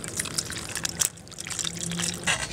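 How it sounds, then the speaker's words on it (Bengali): Water splashes and trickles as palm fruit is washed by hand, a close, soft, continuous sloshing with small drips and splashes over a few seconds. "প্রথমত তালটা ভালো করে ধুয়ে নেব।"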